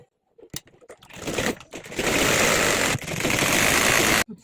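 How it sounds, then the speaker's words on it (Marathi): A sewing machine runs a short burst, pauses, then stitches steadily on a baby's bunny-ear hat. The motor whirs loudly and continuously for a couple of seconds and then stops abruptly. "आता याच्यावरती आपण दाब शिलाई घेऊन घेऊ"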